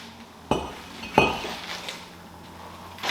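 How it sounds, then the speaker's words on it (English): Metal clinks ring out sharply twice as a brake rotor comes off the front wheel of a 2005 Toyota Prius during a wheel bearing replacement, close by in a quiet garage, with faint lighter taps afterward. "Let's take the brake rotor off."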